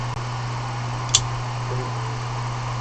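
A 3D printer printing a small model building, a steady low mechanical hum with a faint fan-like whir and a couple of isolated light clicks.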